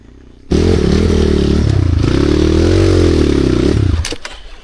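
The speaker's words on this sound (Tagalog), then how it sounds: "tumbling rag kalit ang iyang motor" A motorcycle engine drones loudly and steadily for several seconds, then cuts off into a brief clattering crash as the bike suddenly tumbles over.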